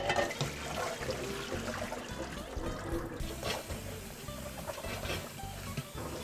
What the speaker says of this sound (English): We drain all the water.